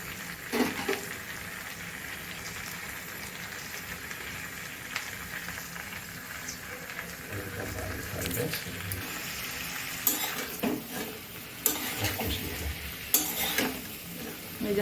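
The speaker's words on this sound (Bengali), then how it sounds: "এবার দেওয়া হচ্ছে টমেটো। নিয়ে এটাকে একটু ভালো করে ভেজে নিতে হবে।" Tomato fries with chopped onion and crushed ginger and garlic in a pan, a soft sizzle under intermittent stirring scrapes and a few sharper clanks of a utensil against the pan.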